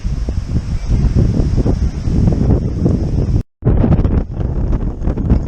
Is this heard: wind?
yes